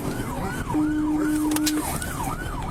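A police car siren wails up and down repeatedly under road noise, with a steady horn-like tone briefly joining in the middle, while pursuing a wrong-way driver.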